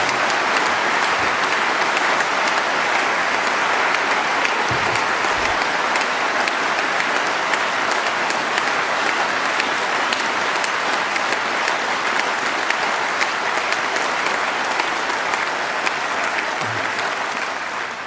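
Sustained applause from conference delegates at the SNP Spring Conference 2011, a dense, steady wash of many hands clapping throughout, loud and unbroken, with no speech over it.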